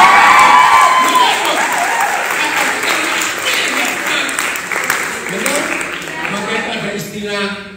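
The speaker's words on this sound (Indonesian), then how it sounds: "Tepuk tangan buat istrinya" Applause from a crowd at a gathering of theology college students, steady clapping with a few cheers that slowly fades, with a voice talking over it.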